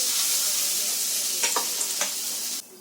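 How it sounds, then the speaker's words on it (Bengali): Gram flour and mashed pumpkin with mustard oil are stirred in a pan over low heat, a continuous bright sizzle with a few scraping strokes near the end, no voices. "বেসনটাকে দিয়ে হালকা আঁচে দু মিনিট এইভাবে নাড়াচাড় করে নেবেন"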